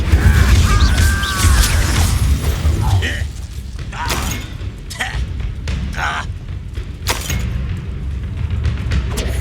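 Fiery Incendio and Confringo spell blasts from the Hogwarts Legacy video game: a loud booming burst at the start, then scattered thumps, creaks and mechanical clanks through a game battle scene, with short voice sounds mixed in.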